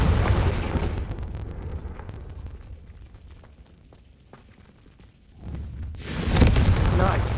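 A Confringo spell blast goes off in the Hogwarts Legacy video game. A heavy boom is followed by a fading rumble, then a second loud, crackling explosion erupts near the end.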